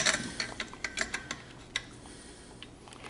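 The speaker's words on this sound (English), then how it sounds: "snug it down tight with the wrench provided" A wrench snugging a regulator down onto a nitrogen gas tank gives a series of faint metallic clicks and ratcheting taps, irregular and close, with light scraping between them.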